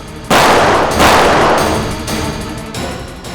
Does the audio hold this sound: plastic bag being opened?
no